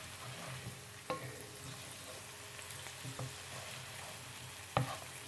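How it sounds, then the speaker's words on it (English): Onions fry in a hot pan with a soft, steady sizzle while a utensil stirs them, scraping and tapping against the pan a few times, quiet and close. "I'm gonna give the onions here a little bit of a stir."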